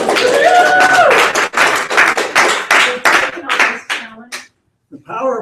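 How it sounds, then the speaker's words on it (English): Audience applause: a crowd claps steadily for several seconds, fading out near the end, followed by a brief bit of speech. "Give Bill one more round of applause."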